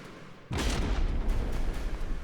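A single heavy boom from a naval gun in a PT boat video game erupts suddenly and rolls on as a loud, sustained rumble with no voices.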